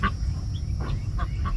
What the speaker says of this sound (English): they've got a handful of chickens here